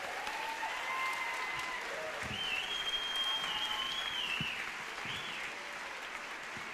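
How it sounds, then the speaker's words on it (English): An audience at a district school band concert claps steadily for the performers, with a full, sustained wave of applause and faint cheers and whistles rising over it. "give them a round of applause"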